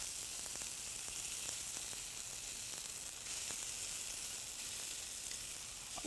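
Scallops sear in a lightly oiled pan with a steady, hissing sizzle that stays constant throughout, fairly quiet and with no other sounds.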